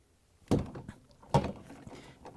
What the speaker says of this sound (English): I'm going to knock this handle hard to lose the nut.